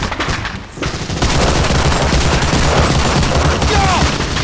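Covering gunfire on a World War II battlefield in Medal of Honor: Allied Assault, with dense, continuous rapid machine-gun and rifle fire and thudding impacts filling the scene, loud and close.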